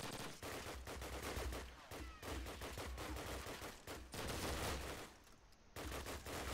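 Sustained bursts of PPSh submachine gun fire in Call of Duty 1 online play, rapid loud automatic volleys with short pauses between strings of shots, layered with other gunfire and game noise.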